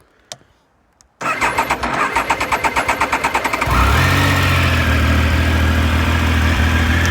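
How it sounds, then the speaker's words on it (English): Twenty-year-old motorbike engine cranked on its electric starter with the clutch pulled in: a rapid chugging whir of cranking strokes, then the engine catches and settles into a loud, steady idle close by. "you've got to pull in the clutch and you've got to press the starter"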